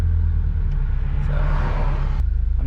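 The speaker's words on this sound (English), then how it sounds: "I'm just gonna do some driving around right now, so you guys can hear the car" A catless Subaru BRZ engine drones at a low, steady pitch while the car drives along, heard from inside the cabin as a constant deep rumble with a slight swell midway.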